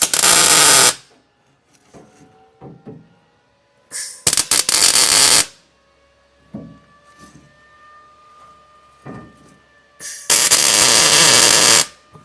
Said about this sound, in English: I'm only going to put in 5 spot welds across the top.